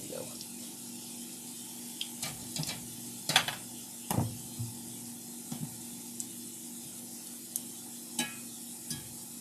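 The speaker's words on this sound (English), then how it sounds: "When your oil is nice and hot, you're going to see sort of your crisping happening a little sooner." Tortilla strips frying in hot oil, a continuous soft sizzle with occasional clinks and stirring scrapes, close and moderate, with a steady hum beneath.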